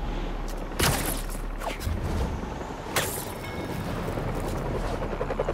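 A helicopter in the PS5 game Spider-Man 2 gives off a continuous rotor rumble, broken by a few sharp bursts and blasts in the game, with no talking.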